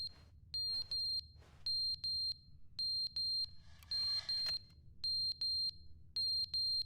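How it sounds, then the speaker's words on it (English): A piercing smoke alarm in The Stanley Parable: Ultra Deluxe chirps in quick paired and triple beeps. The pattern repeats steadily, with short pauses between the groups, and a brief noisy burst cuts in midway. "I hate the smoke alarm."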